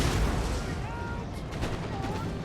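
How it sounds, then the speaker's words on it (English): Cannons firing in the strategy video game Empire: Total War, a dense rumble of overlapping booms and crackling shots from a battle near a wall, with voices faintly mixed in. "These cannons, they can fire at those guys."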